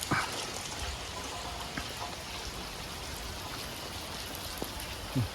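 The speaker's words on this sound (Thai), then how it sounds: "บรรยากาศฝนตกลิ่นๆ" Steady rain falling outdoors, a constant soft hiss with scattered drips, even and unbroken throughout.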